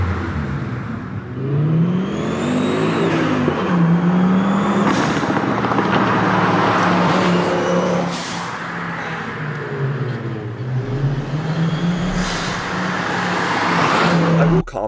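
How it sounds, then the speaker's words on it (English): Turbocharged car engine revving hard through several rises and drops, with the pitch climbing and falling under a loud, close, sustained exhaust roar. "I don't typically go for a loud blow-off valve on mine."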